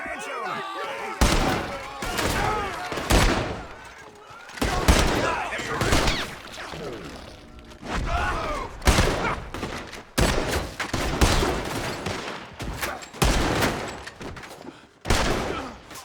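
Gunfire in Red Dead Redemption 2: repeated loud volleys of rifle and pistol shots in bursts, close and sharp, with shouting voices between the salvos.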